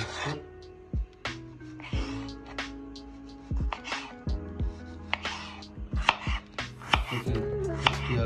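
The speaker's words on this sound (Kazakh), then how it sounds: "Қиярды 3-4 бөлікке бөліп алып, ұзын болса, үлкен болса, осылайдан көпшілеп турайсыздар." A knife chops cucumber on a cutting board for a light salad in a Kazakh kitchen, giving a series of sharp, distinct close knocks in an uneven rhythm with short pauses between bursts.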